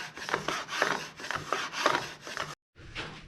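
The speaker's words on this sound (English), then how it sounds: "And that is just go after it with a plane." Hand plane shaving wood for a serving tray, a series of rhythmic rasping strokes about every half second, close and fairly loud, then a brief pause before planing resumes.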